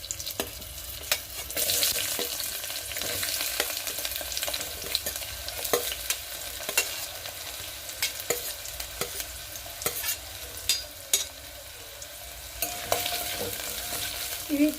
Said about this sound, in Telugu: కట్ చేసి పెట్టుకున్న ఆనియన్స్ వేస్తున్నాను ఇప్పుడు నేను